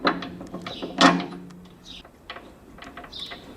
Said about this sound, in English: it's finding thread. It's like finding Nemo, only with bolts